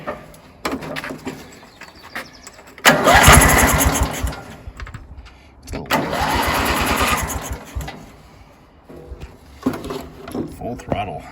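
A Lawn Chief lawn mower engine is pull-started in two loud attempts, each firing briefly into a rough running roar before dying, with someone talking in between.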